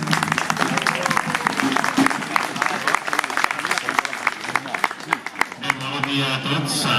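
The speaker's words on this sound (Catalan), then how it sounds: "un fort aplaudiment per tots" A crowd claps at a municipal opening ceremony in Sant Llorenç d'Hortons, with a lively burst of applause mixed with voices and talk running over it for most of the clip.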